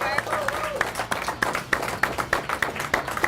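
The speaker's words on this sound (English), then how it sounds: "Keep clapping" Several people clap together in a steady, quick rhythm during an eating challenge, the beat holding evenly throughout while voices talk and shout close by over the claps.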